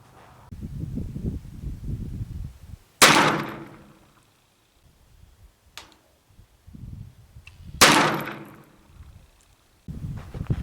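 Two loud, sharp shots from an 1860 Army revolver with a Richards conversion, firing light Trail Boss powder cartridges at an outdoor target 20 yards away. Each report rings out and decays, with quiet handling noise between.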